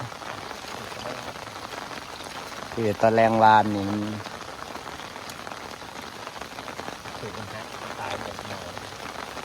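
Steady rain patters on a surface at a riverbank during fishing with fish traps, a dense even hiss throughout, with someone speaking briefly in the middle.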